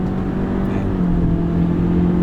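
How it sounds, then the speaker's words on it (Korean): A Honda Accord 1.5 turbo engine held high in the rev range while accelerating, giving a loud, steady droning hum with a constant low tone throughout, heard alone. "엔진은 왕왕거리고 시끄럽습니다만"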